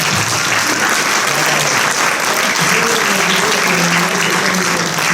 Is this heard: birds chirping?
no